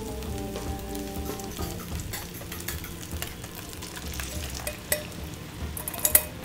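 Corn tortillas laid over a full open flame on a cooktop, giving a steady dense sizzle and crackle throughout with a few sharper pops near the end, close and fairly loud with no voices.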